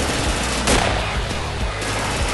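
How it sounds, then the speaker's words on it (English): Rapid gunfire in a video game, bursts of shots aimed at the player, loud and dense throughout with a sharp crack near the middle. "I don't like that he is shooting at me"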